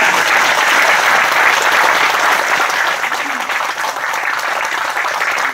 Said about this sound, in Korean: 훌륭한 강의를 해주신 우리 김춘희 박사님께 다시 한번 큰 박수를 보내주시면 고맙겠습니다